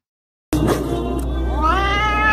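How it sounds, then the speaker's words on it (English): A cat lets out a sudden, close, drawn-out meow with a rising, wavering tone after a brief silence. "Ah, look at this cat."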